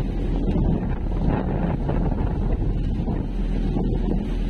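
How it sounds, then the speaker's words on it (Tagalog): Strong typhoon wind buffets the microphone at a shore crowded with boats, a steady loud roar of gusts with low rumbling and faint water movement underneath, no speech. "Grabe yung hangin dito mga kabising, oh. Lakas yung hangin."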